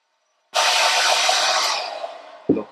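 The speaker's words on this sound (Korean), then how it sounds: "일단은 저는 머리 말린 다음에" A hair dryer switches on abruptly to blow-dry a man's hair in a salon, a loud close whooshing roar that holds steady, then eases slightly before a brief bump near the end, with no talking.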